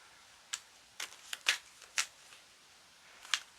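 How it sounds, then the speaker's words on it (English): Tarot cards being shuffled by hand during a love reading, heard as a few quiet, separate riffles and soft card slaps spread unevenly over a faint background, with no one talking. "Wish I could freaking shuffle better like that"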